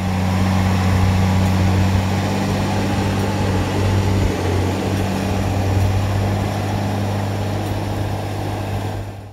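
A 2003 Valtra Valmet 8150 4x4 tractor of 125 hp works a field pulling a five-section Kverneland cultivator, its diesel droning loudly and steadily with a constant low hum before fading slightly at the end.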